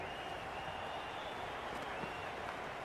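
Steady roar of a cheering, applauding stadium crowd in a Cricket 26 video game during a Pakistan versus New Zealand T20 match, a dense continuous wash of sound with no clear breaks.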